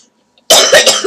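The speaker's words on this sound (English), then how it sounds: "Sorry about the coughing." A single harsh, loud cough bursts close to the mic after near silence, with a couple of rough pulses trailing over about half a second in a dusty room.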